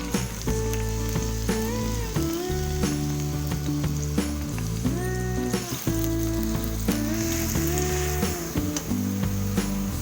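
Grated apple frying in hot ghee, a steady dense sizzle running throughout at close range, with no talking over it.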